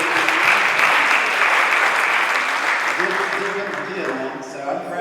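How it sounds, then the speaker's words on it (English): Sustained audience applause at a Mercy Health community event honoring a Hamilton County heart-restart project leader, a dense wash of many hands clapping that stays loud and slowly thins, with some voices mixed in. "Let's give him a round of applause"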